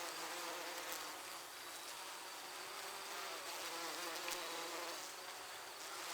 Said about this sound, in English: When bees arrive back at the hive